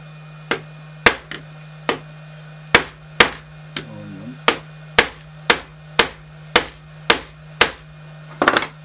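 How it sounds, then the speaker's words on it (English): A hammer strikes wood repeatedly during a Dansette Tempo record player repair, about a dozen sharp, close blows at a steady rhythm, with a steady electrical hum underneath. "we might have to go for a bigger hammer"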